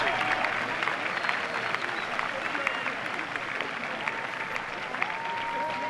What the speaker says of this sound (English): you can hear the big applause